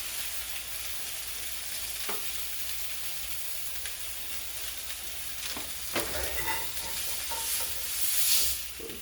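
Stuffed chicken searing in a hot pan, a close, continuous sizzle broken by a few utensil clicks and scrapes, swelling briefly near the end, with no speech over it.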